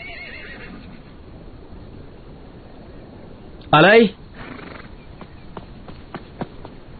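A horse gives one loud, short whinny close by, followed by a few faint hoof clops, with people talking before and around it.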